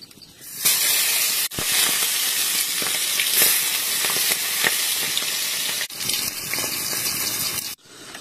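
Food sizzling and frying in hot oil in a pan while cooking outdoors at a hillside jhum field, a steady loud hiss with brief breaks as ingredients are stirred.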